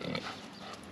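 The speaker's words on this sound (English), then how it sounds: "it's kind of fun to watch the little piglets change every day" Little piglets squeal and grunt nearby in a pen on a farm, a short burst of busy, high-pitched animal noise, loudest at the start and then steady.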